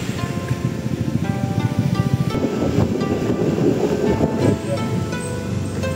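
Ocean surf at Pelang Beach rolls and crashes steadily under gusty wind noise, loud and continuous, with faint music in the background.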